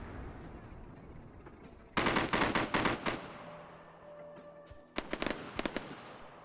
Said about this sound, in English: I just saw another round come in.